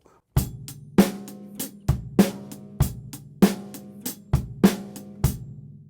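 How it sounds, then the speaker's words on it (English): A drum kit plays a groove with the bass drum on the and of 3 and the snare on 4, tight kick, bright snare and cymbal hits repeating in a steady bar pattern, close and unaccompanied. "I can play the bass drum on the and of 3, the snare drum on 4"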